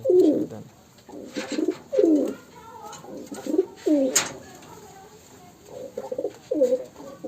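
A Rajshahi local Giribaz pigeon coos in repeated low, throaty phrases, close and clear, with short pauses between calls.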